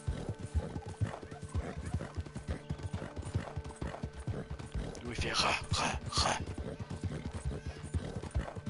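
A horse galloping in a video game, rapid rhythmic hoofbeats running steadily throughout with a whinny in the middle, while a player speaks briefly over it.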